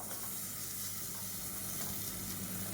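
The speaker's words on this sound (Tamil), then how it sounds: "இப்போ எண்ணெயில் வந்து நல்லா வறுத்துட்டோம்னா டேஸ்ட்டாக இருக்கும்." Cauliflower and mixed vegetables fry in hot oil for biryani, a steady, even sizzle close by with no voices and no pauses.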